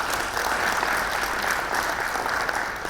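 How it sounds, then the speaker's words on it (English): Audience applause at a public forum on public sector governance, a steady dense wash of many hands clapping at close range with no talk over it. "Let's give them a big clap."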